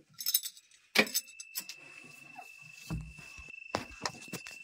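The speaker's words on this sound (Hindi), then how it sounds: "अभी हम लोग केबिन के अंदर आए, अभी चाबी ऑन कर रहे हैं।" Keys jangle sharply inside a bulldozer cabin as the ignition is switched on, followed by a steady high electronic tone and small clicks and rattles.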